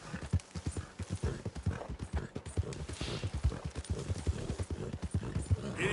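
Horse hooves clip-clopping at a steady running rhythm in the video game Red Dead Redemption 2, close and continuous, with a rider's brief voice and a faint whinny underneath.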